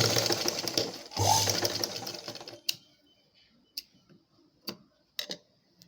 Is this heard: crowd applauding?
no